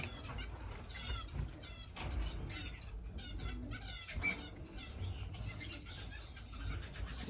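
Pet finches in an indoor bird room chirping and tweeting in quick, overlapping bursts, fairly faint over a low background hum, with some wing flutters.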